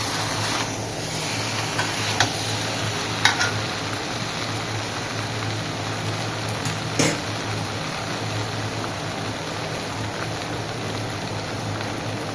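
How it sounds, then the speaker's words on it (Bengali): Chicken and potato pieces stir-fried in a pan with little oil for a curry make a continuous even hiss of sizzling, broken by a few sharp clinks of a spatula, with no talking. "এইরকমভাবে আমি 4-5 মিনিট এই মাংসটাকে আলুটাকে কষে নেব"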